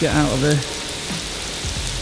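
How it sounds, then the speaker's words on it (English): Artificial rain pours from the ceiling of an indoor rain room, a dense steady hiss of falling drops, with a person's voice speaking briefly near the start. "It's just a big empty room with rain coming from the ceiling."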